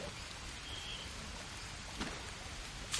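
Steady rain falls in the Green Hell jungle survival game, a dense even patter with a faint distant rumble, heard alone without talk.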